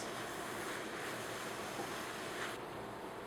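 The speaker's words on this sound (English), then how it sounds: "So I'm just going to continue to saute this." Mushrooms and peppers sauté in a wet pan, giving a steady, even sizzle and hiss that runs throughout, with no talking.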